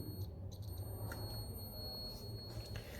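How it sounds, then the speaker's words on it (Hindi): A multimeter in continuity mode gives a steady, thin, high beep while its probes touch both ends of a car wiring harness wire. The beep holds for about two and a half seconds, then stops, fairly faint over a low room hum. "अगर दोनों एंड पे लगाने के बाद अगर आपको बीप साउंड सुनाई देती है, आप इजीली देख सकते हैं एक बीप साउंड आ रही है"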